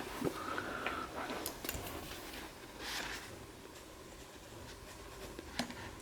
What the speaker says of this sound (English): So I'm going to write it down